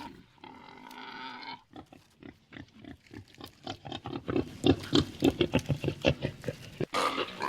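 A wild pig caught in a snare grunts and squeals close by, first with a drawn-out cry and then with rapid, rhythmic snorting grunts that grow louder and more frantic.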